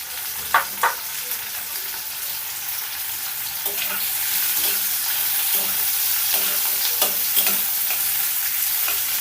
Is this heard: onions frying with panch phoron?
yes